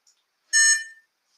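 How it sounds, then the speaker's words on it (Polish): A Codey Rocky educational robot gives a single short electronic chirping beep as it powers on, close and clear against silence. "Mój od razu już piknął"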